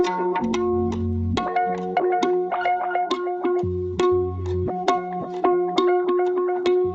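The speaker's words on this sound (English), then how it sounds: "really cool plucky texture or phrase that's obviously been run through some kind of like guitar pedals" A plucked stringed phrase, heavily effected with pedal-like distortion and glitchy texture, repeating in a choppy rhythm with sustained low bass tones underneath.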